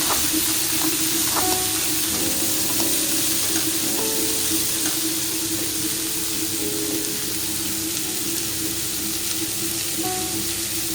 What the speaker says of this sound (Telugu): ఇప్పుడు మనం ఇందులో కట్ చేసి పెట్టుకున్న ఉల్లిపాయ ముక్కలు మిరపకాయలు వేసేసుకోవాలి ఇంకా ఒకసారి కలిపేసుకోవాలి